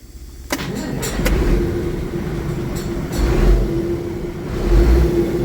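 A Cummins 8.3 engine in an HTZ tractor, already warm, cranks and catches, then settles into a loud, close idle with a few swells in revs and no talk.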